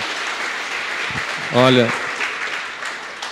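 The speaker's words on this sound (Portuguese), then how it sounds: "Uma salva de palmas para o Senhor." Congregation applause fills a church gathering, a steady wash of clapping under a speaker's voice, with a brief louder spoken outburst near the middle.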